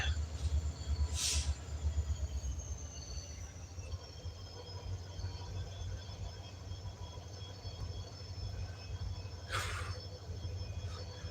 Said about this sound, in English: the train's about to cross the crossing again, so it's probably going to honk